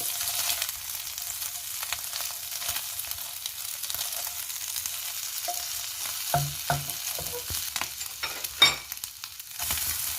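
Egg stir-fries in a wok for chicken pad thai, giving a steady close sizzle with intermittent scraping and tapping of the spatula toward the end, with no voices.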